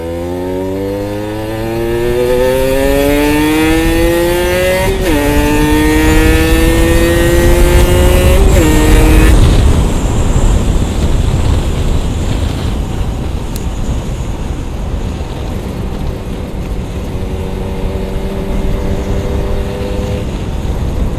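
A motorcycle fitted with a PWK carburetor revs hard at speed, its engine pitch climbing through the gears with quick shift breaks before settling into a loud, sustained roar mixed with rushing wind.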